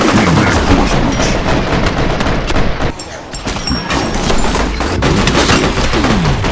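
Sustained heavy gunfire from a firefight in FEAR Perseus Mandate, dense continuous bursts and booms filling the whole stretch, with a brief dip midway before the shooting resumes at full intensity.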